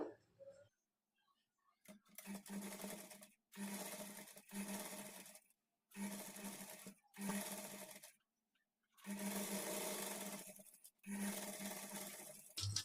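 A sewing machine stitches blouse lining in repeated runs of steady whirring, each lasting one to two seconds and separated by short pauses, close and clear.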